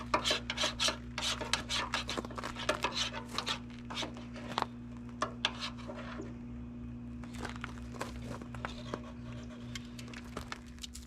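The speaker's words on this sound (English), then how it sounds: "you're going to want to go ahead and clean in here out again because of the excess ash that'll fall down" Ash is scraped out of a HeatMaster G Series outdoor wood stove in a run of close, rasping strokes, irregular and bursty, over a steady low hum.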